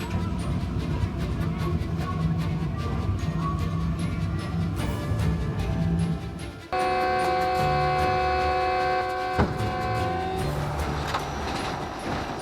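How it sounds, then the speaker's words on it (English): A train rushes forward with a steady rumble, then a long horn blares loudly in several tones and a sharp crash-like hit cuts through before the roar continues. "The train barrels forward and crashes head-on"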